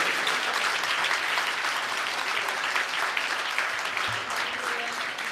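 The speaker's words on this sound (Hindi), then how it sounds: "तालियां जरा जोरदार बजना चाहिए।" An audience at a Jain Ashtanhika festival gathering claps vigorously for a visiting pandit, a steady dense roar of applause lasting the whole stretch, fairly close, with a brief thump near the end.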